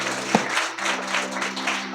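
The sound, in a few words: congregation clapping loudly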